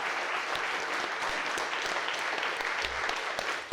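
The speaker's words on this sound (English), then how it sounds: "do a big round of applause for Margaret for organising such a beautiful" A crowd applauds warmly and steadily, dense clapping from many hands that carries on without a break, close and fairly loud.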